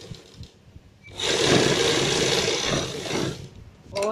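A sewing machine stitches a coat collar, starting after a quiet pause and running loud and steady for about two seconds before stopping, with faint handling sounds around it.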